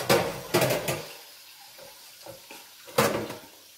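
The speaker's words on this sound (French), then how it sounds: "je laisse mon eau tranquillement couler dessus" Tap water runs over a soft-boiled egg in a kitchen, a soft steady trickle broken by a few louder splashing bursts, close by with no talk.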